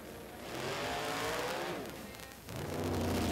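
A drag race car at an NMCA Indy eliminations run launches and loses traction, its engine roaring loud and close as the tires spin up and smoke, with a brief dip in the noise before the power surges back.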